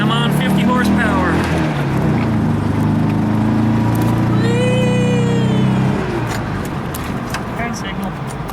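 A vehicle with a 50 horsepower engine hums loudly from inside, its low drone rising in pitch as it pulls away, then easing off near the end, with faint voices over it.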